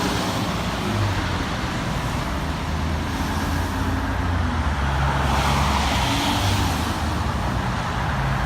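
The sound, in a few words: car passing through traffic lights on road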